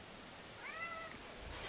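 A single short, faint cat meow rises and falls once, heard over steady outdoor hiss that could be wind or running water from a creek.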